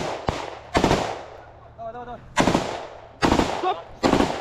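Automatic machine-gun bursts in combat crack out in several sharp, loud volleys spaced across the moment, with a brief tonal whine between them and a faint voice in the background.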